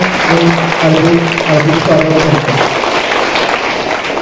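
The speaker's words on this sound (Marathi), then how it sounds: "एकदा जोरदार टाळ्या वाजवून प्रथम आपल्या सर्वांचं" Loud, sustained applause from a crowd of teachers and students at a school admission festival, a dense wash of clapping filling the whole moment with a voice faintly underneath.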